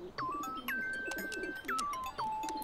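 Pigeons coo in a cartoon scene, giving four short, rising-then-level calls in quick succession over a quiet background.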